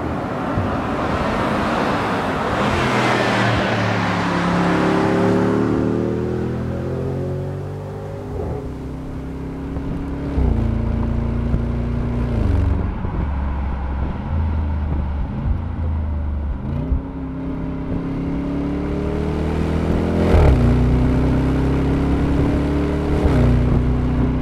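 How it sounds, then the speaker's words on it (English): Bentley Bentayga V8 engine rumbles on the road, deep and loud, rising and falling through repeated revving sweeps as gears change, with a throaty burble close up and some road noise underneath. "let's not forget a little bit of that V8 rumble"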